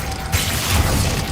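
The Depulso force-push spell is cast in Hogwarts Legacy: after a brief lead-in, a sudden broadband whoosh bursts in, followed by a short rumbling, clattering impact that stays loud until the end.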